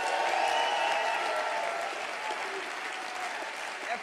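A large crowd at the Youngevity LIVE 2012 direct selling convention gives sustained, dense applause with crowd noise, easing slightly toward the end.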